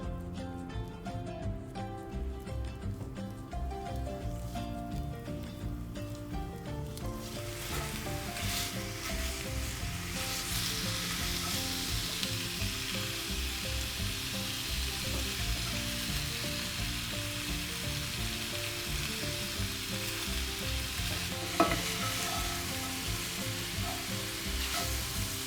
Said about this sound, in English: we're going to go ahead and start cooking the breakfast sausage